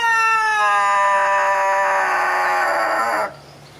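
A rooster from a breed selected for long-lasting crows gives one loud, close, sustained crow that stretches for over three seconds before cutting off abruptly into quiet.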